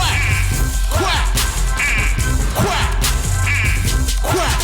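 A loud crowd imitates duck quacking, making rapid, overlapping nasal quacks in a rhythmic chant over dense background noise.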